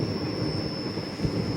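The Kacheguda to Nagercoil 16353 train runs along steadily, giving a continuous close rumble with a thin high whine over it and no talking.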